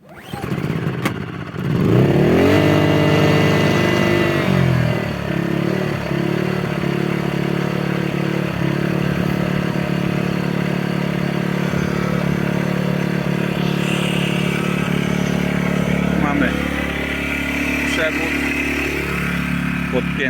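A Mast YH 2200 petrol generator cranks with a short clatter, then catches and settles into a loud, steady engine drone that holds for the rest of the stretch, close by.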